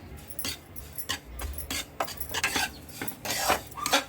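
A spoon scraping and clinking against a pan as ragi flour is roasted and stirred continuously, with irregular light scrapes and taps at close range, fairly quiet and without talk.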